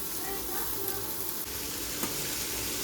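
Tomatoes, onions and chilies sizzle in hot oil seasoned with cumin, curry leaves and asafoetida on an electric stove, a steady close hiss with faint crackles throughout.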